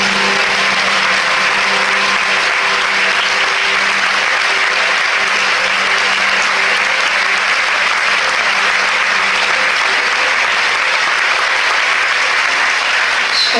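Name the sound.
applause for Isabelle Carré at festival ceremony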